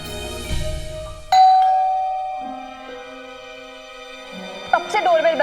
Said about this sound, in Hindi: कब से डोरबेल बज रही है, सुनाई नहीं देता?